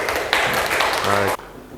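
A classroom group claps for classmates after a presentation, a dense wash of close clapping that runs under a teacher's talk and stops abruptly near the end.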